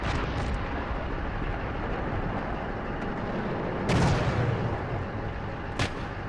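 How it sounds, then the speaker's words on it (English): Continuous rumbling battle din in a military video game, with dense distant gunfire and artillery, a heavier blast near the four-second mark and another sharp crack shortly before the end. "3-1, we're taking fire here."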